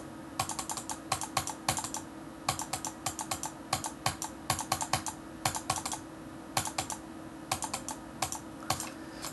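Rapid bursts of computer keyboard key presses while playing a demon-level rhythm game, clicking in quick irregular clusters with short pauses, close and crisp over a steady low hum, with no talking.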